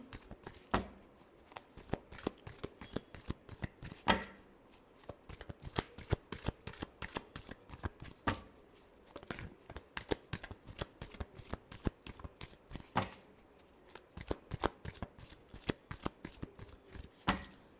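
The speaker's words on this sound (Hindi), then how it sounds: "last shuffle" Tarot cards shuffled by hand in a long run of rapid crisp riffles and flutters, close and fairly quiet, continuing steadily with brief pauses and no talking.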